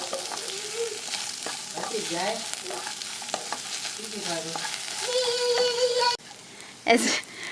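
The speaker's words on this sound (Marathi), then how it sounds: "फ्रेंच बीन्स फ्राय करता" French beans fry in oil in a pan for vegetable fried rice, a steady close sizzle with occasional stirring scrapes, while a person talks over it throughout.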